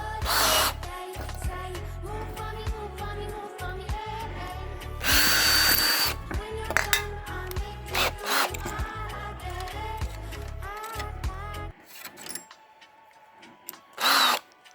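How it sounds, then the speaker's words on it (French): A power drill bores a hole into an old garden sprayer, starting with a small bit and working up to larger ones. Loud, steady whining runs in long bursts with brief pauses, then stops, leaving a few short final spurts. "je perce, je commence à percer petit et faire de plus en plus gros"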